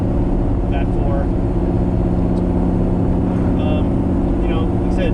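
A turbocharged LS V8 swapped into a Lamborghini Murciélago runs at a steady, deep, rumbling idle close by. Someone talks over the continuous engine drone.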